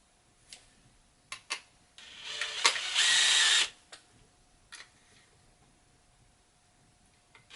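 A power drill whirs briefly for about a second at high pitch while drilling a helmet stand, surrounded by scattered clicks and taps in a quiet room.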